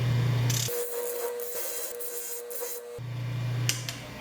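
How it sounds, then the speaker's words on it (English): Wood for a small box being sanded by hand with 100 grit sandpaper: a close, continuous rasping rub over a few seconds with no talk. "I changed this to 100 grit sandpaper"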